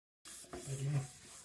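Scrubbing and polishing a pressure cooker pan gives a soft, close rubbing and scraping with a brief low squeak in the middle, fairly quiet and continuous after a moment of silence.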